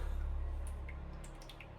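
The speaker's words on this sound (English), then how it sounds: "Drip our excess off." Excess marbling liquid drips off a freshly marbled sheet of paper, several small, faint drips falling irregularly over a low background hum.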